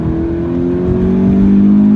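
A 2016 Scion FRS engine revs steadily while driving, a loud, close, continuous drone with strong harmonic tones that climb gradually in pitch as the revs build over two seconds, with no talk.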